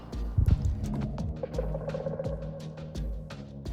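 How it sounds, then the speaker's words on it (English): Minecraft 1.19 "Warden advances" warning sound, heard after two strikes: a low, rumbling ambient drone with a throbbing pulse and scattered faint clicks and thuds, a brief louder burst near the start, eerie and sustained. "Warden advances is for 2 strikes and sounds like this."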